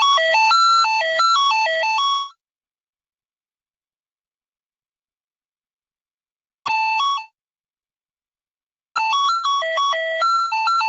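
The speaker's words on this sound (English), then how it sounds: "So this is the PI4, the machine-generated message that goes out." A machine-generated PI4 radio beacon transmission comes in as rapid stepping electronic tones in bursts, broken by long silences, clean and fairly loud.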